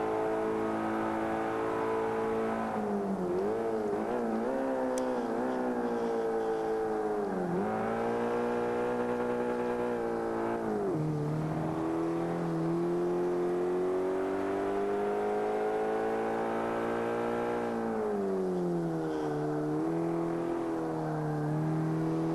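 A modern sport compact race car in the Forza Motorsport 5 racing game revs and accelerates through gears, its engine whine rising and dropping steadily and loudly throughout, with no talking.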